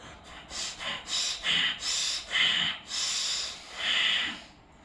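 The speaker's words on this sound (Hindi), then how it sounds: "भस्त्रिका का मतलब होता है लोहार की धौंकुनी की तरह।" Rapid, forceful breaths of bhastrika pranayama pumped in and out like a bellows, a steady run of loud hissing inhales and exhales close to the listener, with no talking.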